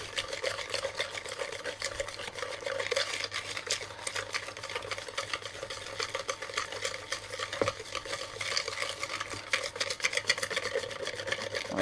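Batter stirred in a bowl toward a smooth, even mix: soft, continuous scraping and swishing close by, quiet and steady, with no voices.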